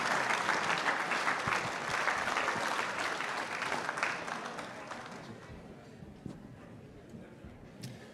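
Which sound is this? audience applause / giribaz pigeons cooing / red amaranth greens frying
audience applause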